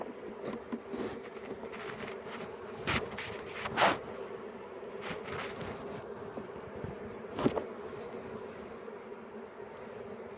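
A gentle honeybee colony hums steadily in a small hive during a beekeeper's inspection, with soft close buzzing, a few sharp knocks and rustles of frames, and no talk.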